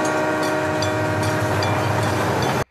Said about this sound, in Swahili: na hapo treni linapiga honi.